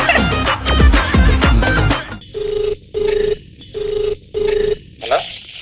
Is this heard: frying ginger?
no